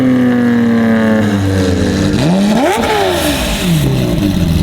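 A V12 car engine cranks and catches, its pitch sweeping up and down through a loud rev before settling into a steady, close, strong idle.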